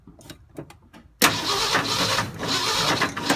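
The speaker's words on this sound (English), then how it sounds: "Keep on till it cranks." A Ford F250 fitted with a Pertronix Flame Thrower distributor cranks with a few faint starter clicks, then the engine abruptly catches into a loud, close, rough running roar with uneven pulses.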